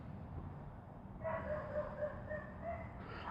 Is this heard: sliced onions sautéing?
no